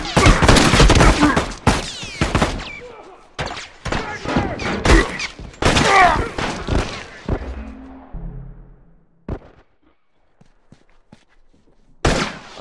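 Rifle gunfire in The Last of Us multiplayer match: dense bursts of rapid shots and impacts crowd the first several seconds, thinning to scattered cracks and thuds, then near quiet before one last loud burst.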